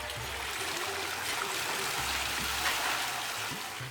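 Silk yarn is washed in tanks of water, giving a steady rushing, trickling wash of water that runs continuously at moderate level with no voices.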